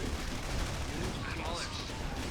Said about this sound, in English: Sniping refineries.